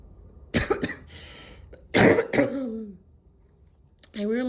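Several harsh coughs in short bursts, close and loud, with a brief pause between clusters and a voiced sound at the end.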